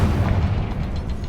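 Confringo spell explosion in Hogwarts Legacy, a short, dense booming burst with low rumble, loud and continuous through its brief length.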